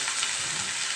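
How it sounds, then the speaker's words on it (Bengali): Potatoes frying in a little oil in a frying pan, a steady close sizzle and crackle with no talk. "অল্প তেল দিয়ে আলুটা ভেজে নিচ্ছি"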